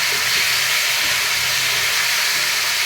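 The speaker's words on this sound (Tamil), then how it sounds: "இப்போ தக்காளி நல்லா வேகுது." A loud, steady hiss of steam from a pot of tomatoes cooking for pickle, continuous and close, with no voices.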